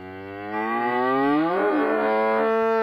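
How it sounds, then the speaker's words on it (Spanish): A cow bellows in a loud, sustained, strained scream that rises and bends in pitch near the middle, with no voices over it. "No sabía que las vacas pudieran gritar, pero carajo que sí pueden."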